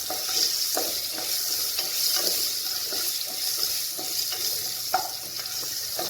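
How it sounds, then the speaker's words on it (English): Onions sizzle steadily in a pan for South Indian sambhar, a continuous frying hiss broken by repeated scraping strokes of a spoon stirring them, close and moderately loud with no talking. "fry for some time till the onions are partially cooked"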